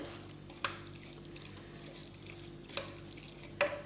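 Chicken in a shawarma spice marinade is mixed by hand, with soft, wet, squishy stirring under a low background and three brief, sharper knocks spaced across the few seconds.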